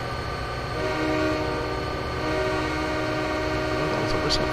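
A train horn sounds steadily over rumbling rail noise in Train Simulator 2020 on the Soldier Summit route in the US, a sustained loud tone running through the whole stretch with no talk.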